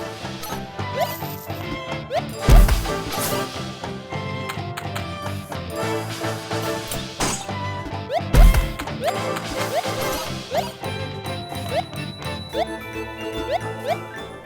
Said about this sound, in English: the sound effects are spot on. They have that tinkling quality of games from the 90s